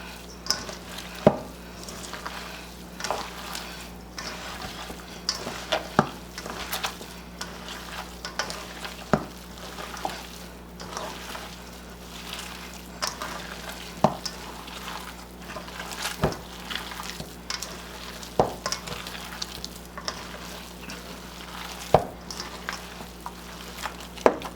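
Meatball mixture is worked by hand in a bowl, giving wet squishing and stirring sounds with irregular louder slaps and squelches over a low steady background hum. No one speaks.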